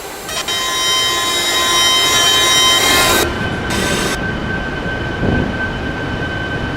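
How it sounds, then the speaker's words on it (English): A Eurostar train in a video game pulls into a station with loud, sustained rail rumble and screeching metallic squeal, high tones cutting out abruptly near the stop while the low grinding continues alone. "we're gonna be hearing this train arriving down the station until we're gonna be completely fully stopped as well"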